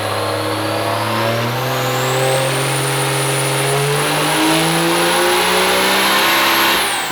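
A 1000 hp 2006 truck engine with a single S468 turbo is held at high revs on a dyno, a loud sustained roar with a rising turbo whine climbing through the run and dropping off sharply at the end.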